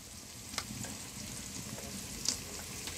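Chopped onions with garlic and whole spices fry in oil in a pan, giving a faint steady sizzle with a few soft stirring clicks, quiet and without speech.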